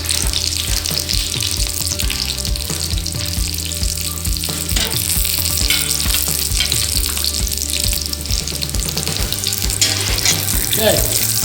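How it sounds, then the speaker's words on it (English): Thick meat frying in a pan makes a continuous sizzle beneath a steady pulsing music track, loud and close throughout with no speech. "We cook this a little longer because it's thick meat inside."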